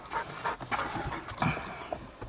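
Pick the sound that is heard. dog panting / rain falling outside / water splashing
dog panting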